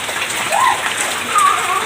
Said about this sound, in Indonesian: Meskipun cuaca tidak mendukung, dari siang diguyur hujan